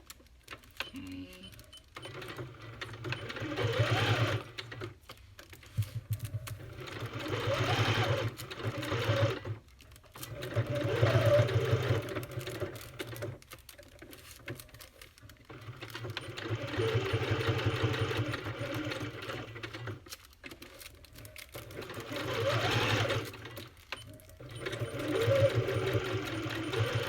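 A sewing machine stitches zigzag on junk journal tags in several bursts of rapid, even whirring, each a few seconds long, separated by short pauses, close and moderately loud, with no talking.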